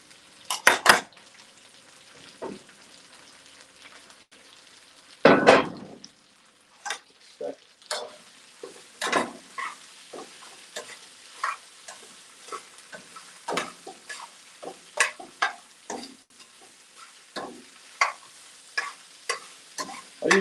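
Two eggs frying in a hot pan with extra virgin olive oil, a soft steady sizzle punctuated by sharp clinks and scrapes of a utensil against the pan, with a louder crack near the start.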